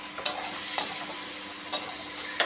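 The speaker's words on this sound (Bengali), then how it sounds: "ভালো করে ভেজে নেব।" Potatoes frying with chopped ginger and green chilli in a pan, a steady sizzle broken by three or four brief stirring scrapes, with no voices.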